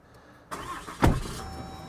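Engine of a 2026 Ram HD pickup truck cranking and catching with a sharp burst from inside the cab, then settling into a steady idle.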